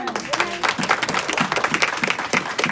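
Church congregation applauding, rapid uneven clapping from a crowd with voices mixed in underneath.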